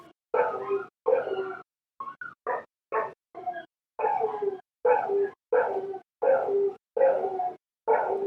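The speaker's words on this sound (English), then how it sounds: "it's my dog barking in the background" A dog barks repeatedly in a house in the Philippines, a steady run of about a dozen sharp, fairly loud barks and yips at a regular rhythm, heard alone without talk.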